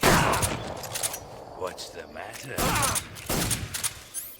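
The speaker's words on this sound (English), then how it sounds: "Nice, we caught that explosion" Explosion in a Metal Gear Solid video game, heard as loud, rumbling bursts at the start and again partway through, with a voice speaking between them.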